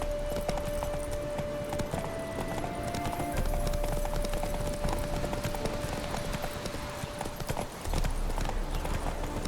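Horse hooves gallop in The Witcher 3, a steady rhythmic clip-clop running continuously at moderate level beneath game ambience and a faint sustained tone.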